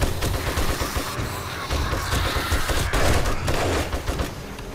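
Rapid bursts of automatic gunfire aimed at zombies in 7 Days to Die, dense overlapping shots with booming low thuds, loud and continuous throughout.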